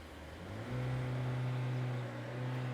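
A Skoda Kushaq 1.5 TSI four-cylinder petrol engine idles with a low, steady exhaust hum that swells slightly as it revs up, then settles, heard close with no talk.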